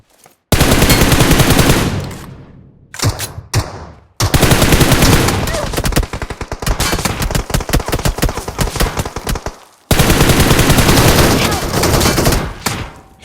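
Loud gunfire in PUBG Mobile: dense automatic bursts and rapid single shots fired up close, broken by short pauses, with battle-royale game sounds around them.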